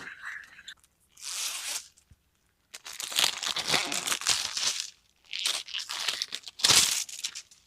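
Plastic sheathing being cut and stripped off electrical cable, heard as close bursts of crinkling, tearing and crunching separated by short pauses.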